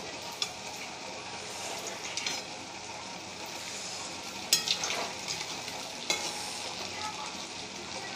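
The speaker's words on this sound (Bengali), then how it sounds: "এখানে আমার পিঠে ভাজা হচ্ছে।" Gokul pitha, a sweet Bengali fried cake, fries in hot oil with a steady close sizzle and bubbling, broken by a few sharp clinks of a utensil against the pan.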